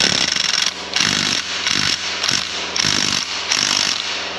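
A pneumatic impact wrench rated at 22 kg of torque hammers at a bolt on a Nissan Livina engine with about 240,000 km on it, firing in loud close bursts with short pauses between them.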